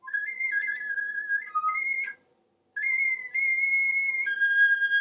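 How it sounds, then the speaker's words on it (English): Flute whistle tones: thin, pure, airy pitches played in short sustained notes that step between a few pitches, with a brief silent pause midway before the delicate tones resume. "You just start to blow and find the whistle tone without articulating in advance."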